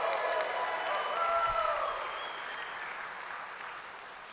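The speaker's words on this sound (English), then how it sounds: "we need a round of applause" A crowd applauds steadily at an awards ceremony, a dense wash of clapping that gradually softens, heard from some distance in a large room.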